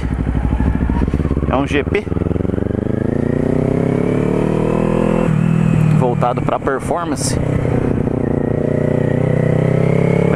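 Kawasaki Z400 motorcycle fitted with an aftermarket G-Scape exhaust, its engine droning steadily and rising in pitch as it revs on the road, heard continuously beneath someone talking.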